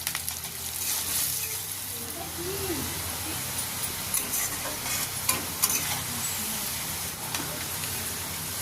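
Onions frying in a generous amount of oil for beresta, a steady close sizzle with scrapes and clinks of stirring throughout, for Bengali ilish polao.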